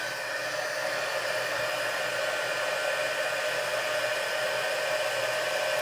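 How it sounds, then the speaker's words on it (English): A heat tool for card making blows hot air in a steady, continuous whirring hiss, close and even throughout with no talking. "I'm going to just get this heat tool heated up."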